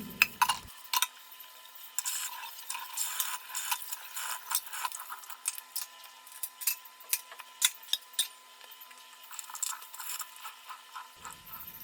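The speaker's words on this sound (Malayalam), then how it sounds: "ആ പാത്രം ഒന്ന് കഴുകിയെടുക്കാം" A dish is scrubbed and rinsed at a home kitchen sink, with irregular scraping, rubbing and soft clinks, close and quiet, over a faint running-water hiss.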